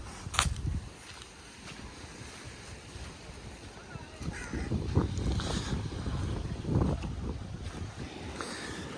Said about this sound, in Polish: stąd się bierze łódkę i płyniemy